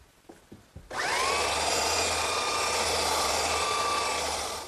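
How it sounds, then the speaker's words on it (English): A belt sander smooths a glued-up wood panel, starting with a few light knocks before a steady, loud, continuous sanding roar holds for the rest of the stretch, with no talking. "And now I'll smooth it all out with my belt sander."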